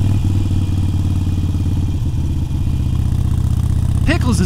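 A Harley-Davidson Iron 883 motorcycle engine, running a little hot, holds a steady close, low rumble throughout, with a brief vocal sound near the end.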